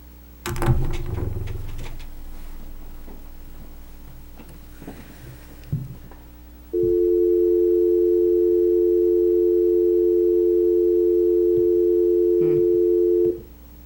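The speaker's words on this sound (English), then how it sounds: "Should we call Derek" A steady telephone dial tone sounds loud and unbroken for about seven seconds while a call is placed during a town zoning board meeting, following some brief handling noises and faint background sounds.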